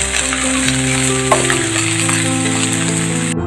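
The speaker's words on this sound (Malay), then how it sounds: "bolehlah masukkan kita punya bunga betik atau bunga papaya. Lalu kita tumis sebentar." Papaya flowers sizzle as they are sautéed in a pan, a loud, steady crackling fry with faint stirring clinks, close up and uninterrupted.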